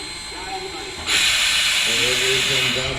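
Southern Railway No. 4501, a 2-8-2 steam locomotive at a railway museum in spring, lets out a loud, sudden burst of hissing steam that continues over low tones and background voices.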